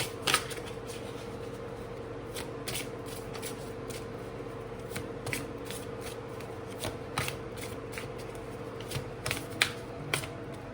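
Tarot cards shuffled by hand, a steady run of crisp riffles and flicks close by, over a low constant hum and without talking.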